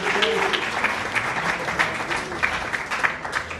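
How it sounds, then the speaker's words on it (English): An audience at a dinner meeting breaks into steady, dense applause for a speaker, with many hands clapping close together and continuing evenly for the whole stretch. "please give a very, very big round of applause for Sam Ayubi"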